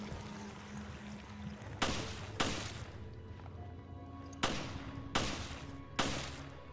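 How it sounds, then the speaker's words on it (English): Enemy gunfire in the video game Resident Evil Revelations: five loud, sharp shots in two bursts, the first two close together and the last three spaced about a second apart, over a quiet rumbling background. "Can you actually shoot these at me? You can, okay."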